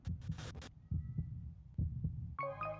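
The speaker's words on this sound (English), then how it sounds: "And then there's like a heartbeat playing" A steady heartbeat sound effect in a Dragon Ball Z Dokkan Battle teaser thumps as paired beats about every nine tenths of a second, fairly soft, before a bright musical tone cuts in at the end.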